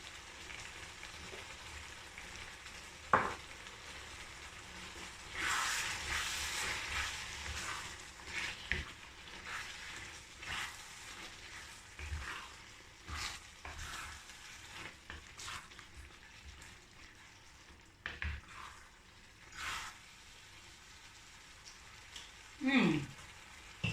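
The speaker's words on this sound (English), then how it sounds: "while this is simmering" Sauce spiced with powdered Scotch bonnet pepper simmers and fries in a pan, making a faint, steady crackling sizzle with occasional louder pops and utensil scrapes.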